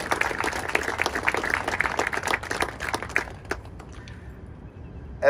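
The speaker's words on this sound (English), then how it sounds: "please join me in a round of applause for the veterans of the Battleship Wisconsin" Audience applause for veterans of the battleship USS Wisconsin at an 80th anniversary time capsule ceremony, a dense steady clapping that thins out and fades after about three seconds.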